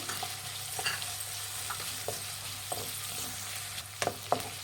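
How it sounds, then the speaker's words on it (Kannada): Capsicum frying in a pan for hotel-style veg fried rice, a steady low sizzle with a few soft scraping stirs of a spatula, close and moderately quiet, no talking. "ಒಂದು ಸ್ವಲ್ಪ ಕ್ಯಾಪ್ಸಿಕಮ್ ಹಾಕ್ಕೊತಾ ಇದ್ದೀನಿ. ಇದು ಅಷ್ಟೇ ಫ್ರೈ ಮಾಡಿ."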